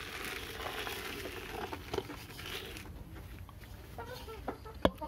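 Laying hens clucking during evening feeding, a steady soft chatter of farm fowl with scattered louder clucks and a sharp close peck or knock near the end.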